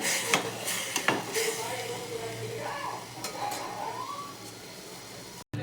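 Pasta stirred in a pot of boiling water on a home stove, with a few scraping knocks against the pot and a low, bubbling hiss; faint chirps and a quiet voice sit in the background.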